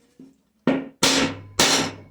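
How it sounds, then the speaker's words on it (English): A hammer strikes wood three times in a slow, uneven rhythm, each blow loud and close with a short ringing decay, after a faint light tap. "So we're going to use just our hammer."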